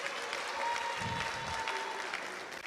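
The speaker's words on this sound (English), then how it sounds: "But you should clap for someone like that." A crowd at a political campaign rally in Bolgatanga, Ghana claps, a steady patter of many hands at moderate volume, continuing throughout with no pause.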